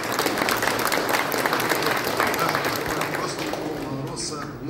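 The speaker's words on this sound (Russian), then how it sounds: "Давайте похлопаем." An audience claps at the opening of a digital technology forum in Yakutsk, a sustained wave of applause from a large crowd that slowly thins, with someone speaking over it.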